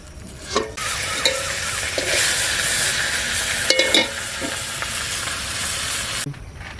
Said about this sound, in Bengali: বড়িগুলোকে ভেজে নেবো ওই মাছের তেলে।